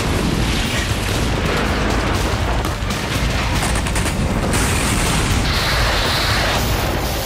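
Bombing in northern Gaza produces a dense, continuous roar of explosions and crackling bursts, loud and sustained, with rumbling booms layered throughout and no voices.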